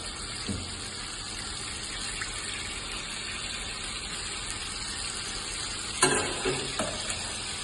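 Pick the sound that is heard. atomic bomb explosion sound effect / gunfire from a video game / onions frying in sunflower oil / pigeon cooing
onions frying in sunflower oil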